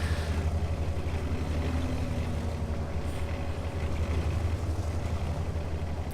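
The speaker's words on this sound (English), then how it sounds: "It's quite soothing, the noise of that WZ as it trundles around." WZ-131 light tank engine in World of Tanks, a steady low rumbling drone as the tank trundles around, continuous and moderately loud with no talk.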